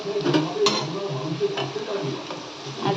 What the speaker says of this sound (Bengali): তো দেখো এখানে ভেজে নিচ্ছি এবার পকোড়াগুলো।